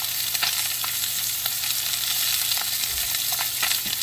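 Pork chops fry in at least three tablespoons of oil in a pan, giving a loud, steady sizzle and crackle that runs unbroken throughout with no speech.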